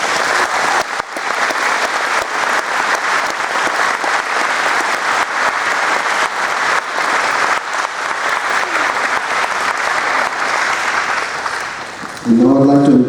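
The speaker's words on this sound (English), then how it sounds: "Let's give them a big round of applause." A sustained, even round of audience applause at a Landmark Society recognition ceremony and garden dedication, steady clapping for over ten seconds before a speaker's voice returns at the end.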